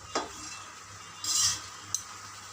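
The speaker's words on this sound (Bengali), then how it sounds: "পালং শাকটা দিয়েছি। দিয়ে এবার এটাকে ভালো করে কষে নিতে হবে।" Spinach sautéing in a pan with a faint sizzle, a couple of sharp utensil clinks against the pan and a brief burst of stirring, close and quiet.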